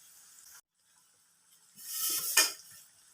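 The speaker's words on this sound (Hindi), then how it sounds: "इसको हमेशा जो है आपने मीडियम आंच पे इसको फ्राई करना है" Khaja sweet dough fries in oil over a medium flame. After a near-silent pause, a short hissing sizzle swells and fades.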